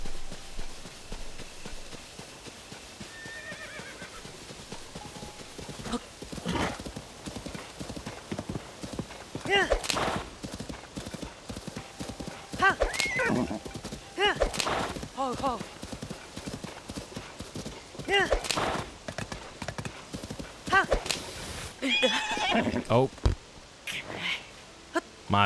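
Hooves clip-clop steadily as a horse gallops in Tears of the Kingdom, with a whinny or two breaking through, while a voice talks intermittently over the game sounds.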